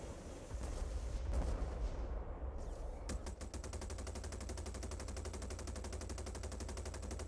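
Missiles and gunfire in the Star Citizen space game: after a brief muffled burst, a steady stream of rapid, machine-gun-like shots runs loud and continuous, with no talking.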